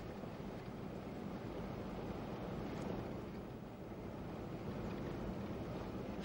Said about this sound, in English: The desert storm shows no sign of abating.